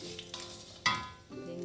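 Dried chili frying in a pan for a South Indian breakfast dish, a steady close sizzle broken by a few scraping stirs and one sharper clatter partway through.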